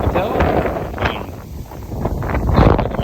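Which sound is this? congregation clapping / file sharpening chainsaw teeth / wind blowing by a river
wind blowing by a river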